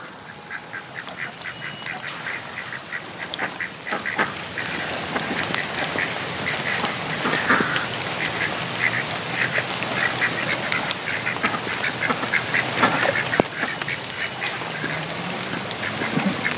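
Ducks on a homestead quack in a busy chorus of repeated calls, close and fairly loud, over a patter resembling rain or splashing water, with no talking.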